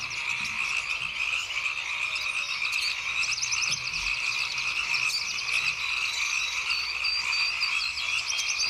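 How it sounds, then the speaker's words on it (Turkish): A dense chorus of frogs croaking continuously, steady and fairly loud, with layered rhythmic calls overlapping throughout. "neşeyle zıplayan Kurbağaları izlerim. Çıkardıkları sesleri dinlerim."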